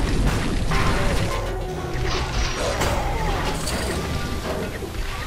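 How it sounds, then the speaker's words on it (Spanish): Limousine slamming into a robot in the Zombie Driver video game: a dense burst of crashing, thudding impacts and metallic clatter over a continuous engine roar, loud and close throughout. "Ya me di contra el robot."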